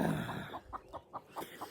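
A chicken in a backyard garden, chasing a cat, gives a quick run of short, evenly spaced clucks at close range, each a brief sharp pulse over quiet background.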